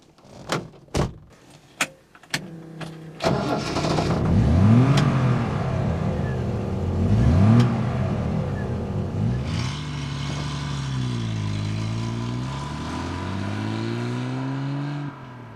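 A Triumph TR sports car engine revs hard while driving, rising and falling through repeated gear changes, loud and close, after a few sharp clicks and clunks at the start.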